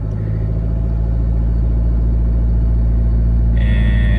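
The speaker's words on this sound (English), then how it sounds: "I got my eyes on the dash here, and we're gonna power brake." The diesel engine of a Chevrolet Colorado holds a loud, steady low rumble up close while being power braked, with a continuous droning tone and a higher whine joining near the end.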